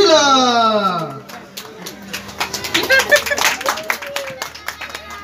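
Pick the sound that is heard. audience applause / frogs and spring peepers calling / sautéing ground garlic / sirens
audience applause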